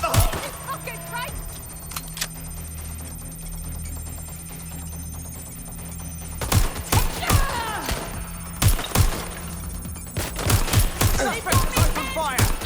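Gunfire in Watch Dogs: Legion, scattered sharp shots and short bursts that grow denser toward the end, mixed with game effects and voices talking.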